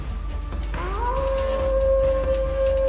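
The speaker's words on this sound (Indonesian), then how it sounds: "Itu kan suara serigala." A wolf howls in a village setting, its long, steady tone rising and then holding loud and clear over a dense low rumble of background noise for about two seconds.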